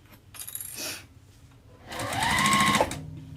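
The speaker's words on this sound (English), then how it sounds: "now I'm going to sew around the lining" Sewing machine stitching around the lining of a fabric wristlet, two close bursts of rapid mechanical whirring with a brief pause between, the second longer and louder.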